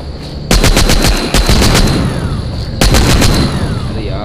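A minigun fires in The Walking Zombie video game in two loud, rapid bursts, each a dense rattle of closely spaced shots, with a short pause between them.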